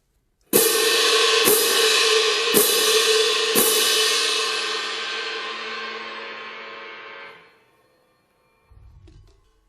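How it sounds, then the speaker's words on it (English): Four loud crash cymbal strikes about a second apart, each bright and splashy, then a long shimmering ring that fades out. "Now, you may be familiar with the traditional cymbals that you use in bands and orchestras."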